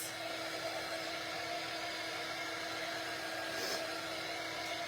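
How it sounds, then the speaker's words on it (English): A hair dryer blows steadily on a freshly painted DIY strawberry directional sign, a continuous close whooshing hum that holds even throughout with no talk over it. "I'm going to hit it with the dryer"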